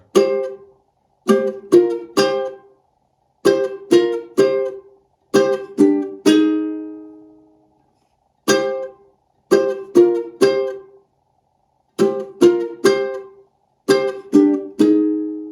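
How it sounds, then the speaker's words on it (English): Ukulele riff with left-hand muting: short, choppy strummed chords, most cut off abruptly and one allowed to ring, played in rhythmic groups with brief pauses between phrases. "one technique that will work very well with this riff is left hand muting"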